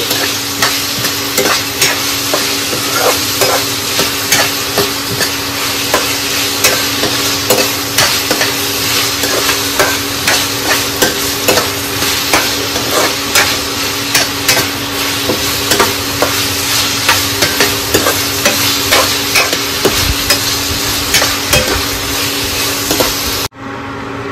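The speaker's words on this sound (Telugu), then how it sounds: "అలా వేసుకున్న తర్వాత కలుపుతూనే కలుపు" A spiced chicken curry base being stirred in a pan, a loud continuous sizzle broken by regular rhythmic scraping strokes of the spoon throughout, ending with a brief quieter moment.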